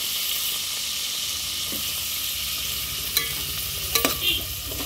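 Onions frying lightly in a pan for tomato rice, a steady close sizzle and hiss with a few sharp scraping stirs near the end.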